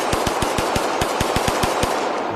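An RIA 5.0E handgun fired in a VR shooting game, about a dozen loud, evenly spaced shots in rapid succession, each sharp and close, with no talk over them.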